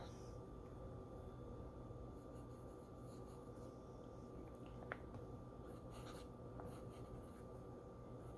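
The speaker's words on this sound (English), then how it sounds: "It's a very satisfying writing experience." A Benu fountain pen nib scratches steadily across paper, a soft continuous crisp rubbing close up over a faint background hiss, with a couple of small clicks.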